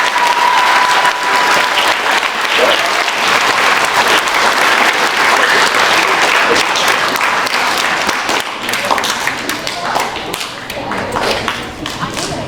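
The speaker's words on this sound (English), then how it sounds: "Please give them all a round of applause." Sustained applause from an audience of students and families at a school ceremony honoring guests, broad and loud, gradually thinning toward the end.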